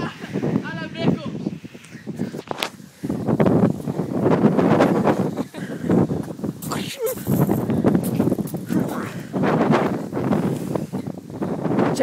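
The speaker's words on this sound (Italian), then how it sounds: "C'è un vento." Wind gusting outdoors in a garden, buffeting the microphone with loud, steady rumbling and rustling, while several people talk and shout over it throughout.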